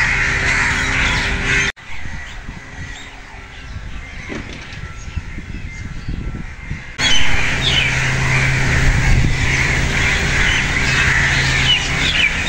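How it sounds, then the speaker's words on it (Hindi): Crows in a Pakistani village caw loudly and repeatedly outdoors, a noisy overlapping chorus of harsh calls close by with brief abrupt breaks in the din. "बहुत शोर मचाया हुआ है परिंदों ने।"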